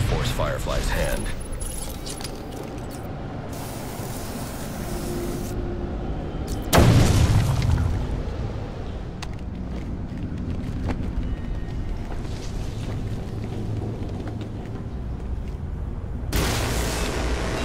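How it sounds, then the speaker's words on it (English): A bomb detonates on a bridge in Batman: Arkham Origins, a sudden loud broadband blast at mid-clip that rumbles and decays amid ongoing game noise, with voices talking around it. "when I blow this bridge into Christmas future."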